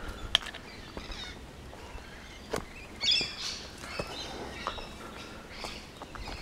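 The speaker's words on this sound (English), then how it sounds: "Lots of birds around here, as you can hear." Birds along an Australian bush trail near a creek, including lorikeets, finches and noisy miners: scattered faint chirps and tweets, some brief louder calls, over quiet ambient rustle with no talk.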